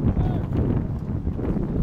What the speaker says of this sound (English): Wind picking up here in the second half.